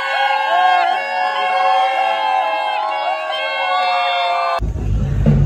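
A dense crowd cheers and shouts together at a Mahashivratri festival celebration in Gavkhadi, Ratnagiri, in the Konkan region. The voices are loud and sustained for most of the clip, then give way to a lower, rumbling burst near the end.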